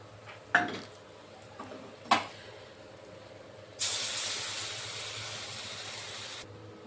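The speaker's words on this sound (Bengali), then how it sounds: "আর বাকি কোপ্তাগুলোও আমি এখন ভেজে নেব একইভাবে।" Koftas deep-frying in a pan of oil give a few sharp clacks at first, then a steady hiss that surges up and holds for a few seconds before cutting off abruptly. Nobody speaks.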